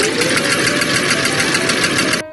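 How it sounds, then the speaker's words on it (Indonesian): A sewing machine runs at a steady fast whirr, a continuous loud close mechanical hum with fine rapid clatter, stopping abruptly at the end. "menjahit"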